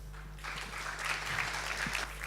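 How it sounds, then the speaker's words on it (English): An audience at a data science talk breaks into applause, with a fairly quiet, steady patter of many hands clapping for about two seconds over a low room hum. "So please give him a round of applause."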